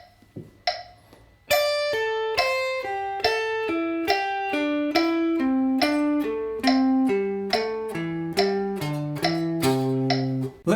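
A guitar picks a descending pentatonic skip pattern, clean plucked notes stepping steadily downward at a moderate tempo against a faint click track at 70, each note ringing briefly, loud and close with no voices.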